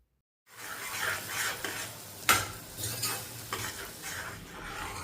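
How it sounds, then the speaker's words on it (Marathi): A thick ground spice paste sizzles steadily in hot oil with mustard seeds and curry leaves in a wok, with a spoon scraping and stirring now and then, close up and without talk. "दहा ते बारा मिनिट चांगलं वाटण परतून घ्यायचं"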